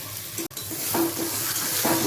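Close-up scraping and stirring of boiled potatoes in a pan over a steady hiss of frying, with a few soft utensil scrapes repeating.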